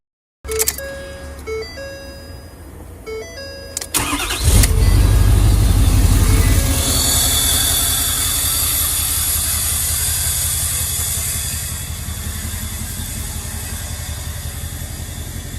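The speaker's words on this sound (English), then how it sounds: "Start up the old square body and get in here since it's been wrecked." Old GM square body truck, previously wrecked, cranking with chimes and clicks before its engine catches and settles into a loud steady rumbling idle with hiss, close by, without any voices.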